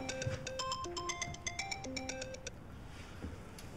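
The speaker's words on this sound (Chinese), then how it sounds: "电话。" A phone ringtone plays a bright, tinkling electronic melody for a few seconds, moderately close, then stops, leaving quiet room tone with no voices.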